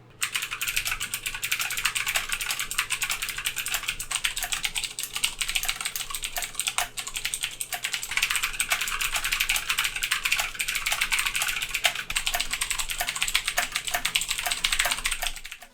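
Typing on an Aukey KM-G3 RGB mechanical keyboard with a brushed metal body, a fast steady run of crisp close clicks and clacks, continuous with no talking.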